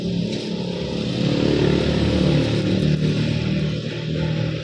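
A Yamaha Sniper 155 motorcycle engine idles steadily up close after a tune-up, with a constant low rumble and a slight rise in loudness midway. No one speaks.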